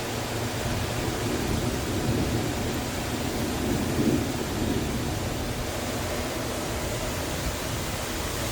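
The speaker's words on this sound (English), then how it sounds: "We had a huge thunderstorm." A heavy thunderstorm pours steady dense rain while a low thunder rumble swells and fades midway, the whole passage a constant loud wash of noise with no voices.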